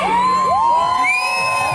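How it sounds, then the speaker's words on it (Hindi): Wedding guests at a pheras ceremony cheer, with loud wavering whoops and shouts rising over a steady crowd roar for the whole moment. "जोरदार तालियां तो बजा लीजिए आवाज तो पहुँचे"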